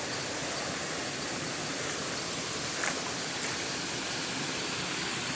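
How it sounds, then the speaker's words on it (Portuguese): A small waterfall carrying rust-tinged water pours down, a constant, loud, even rush of splashing water with no gaps. "Aí a água desce aqui"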